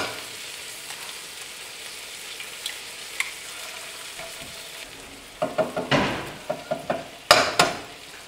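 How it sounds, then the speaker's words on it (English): Pork sausages fry in a pan with a soft, steady sizzle. Partway through, a series of louder metallic clinks and scrapes from a utensil stirring or turning them breaks in, close and sharp, over the continuing sizzle. "Sausage looks delicious, sizzling up nicely."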